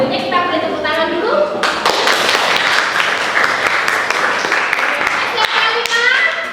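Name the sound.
class clapping hands together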